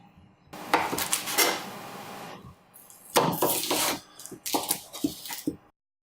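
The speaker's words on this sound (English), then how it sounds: "Just start by chopping up the onions." A knife chops onions on a cutting board for cabbage kimchi, with bursts of quick, close cuts and board knocks in three separate spells and short pauses between them.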